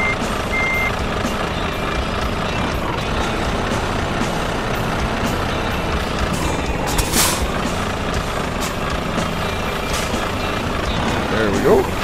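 Truck reversing into a parking spot in Euro Truck Simulator 2, with a steady diesel engine drone and repeated reversing beeps throughout, a brief air hiss partway through, loud and continuous under the game mix.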